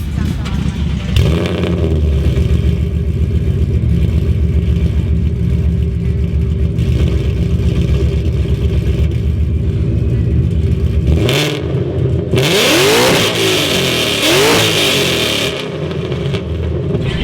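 Loud Corvette engine with no exhaust fitted, firing up and then idling with a harsh, heavy rumble, before being revved hard in several sharp bursts near the end; close and continuous throughout.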